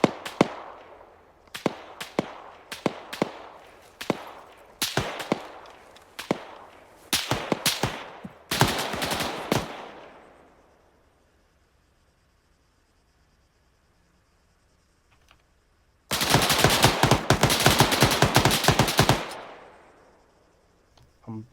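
Gunfire and a launcher in the video game Arma 3: a string of sharp, loud shots ring out in uneven bursts, fall silent for several seconds, then a dense rattling volley follows before dying away.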